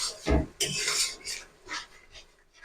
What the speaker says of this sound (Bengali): মশলাটা আমি কিছুক্ষণ কষিয়ে নেবো ভালো করে।